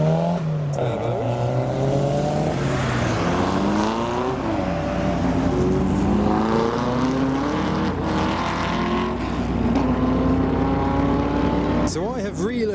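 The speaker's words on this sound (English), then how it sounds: "I can hear the Testarossa moving around. I think that may be it, just passing now." A Ferrari Testarossa with a flat-twelve engine pulls away from a car meet, its loud, smooth engine note rising and falling through gear changes as it passes close by. Other engine noise and crowd sounds sit underneath.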